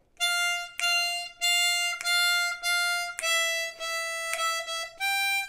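A harmonica plays the fourth phrase of Jingle Bells as a series of clear, sustained single notes with short breaks between them, close and alone with no talking.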